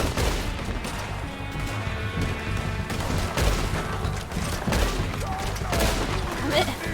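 Gunfire in Red Dead Redemption 2 during a gang shootout, a dense, continuous fusillade of overlapping shots and booms throughout, with voices faintly mixed in.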